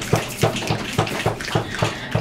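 Warm bathwater running into a tub, a loud, close, rushing pour with a regular pulsing surge throughout.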